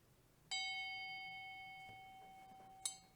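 A bright electronic bell chime rings out once, loud and clear, its tone sustaining and slowly fading over a few seconds before a second short chime strikes near the end.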